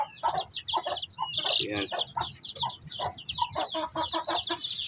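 A mother hen clucks repeatedly at close range in a rapid, irregular series of short calls, with a brief word spoken once.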